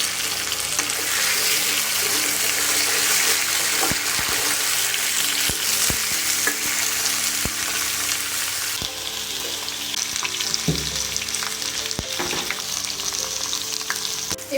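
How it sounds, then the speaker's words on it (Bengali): Taro stolons (kochur loti) frying in a wok with onion, garlic and chili, giving a steady loud sizzle throughout, broken by occasional clicks and scrapes of a stirring spatula. "পেঁয়াজটা এরকম ভাজা ভাজা হয়ে গেলে তাতে দিয়ে দিব কেটে রাখা কচুরলতি।"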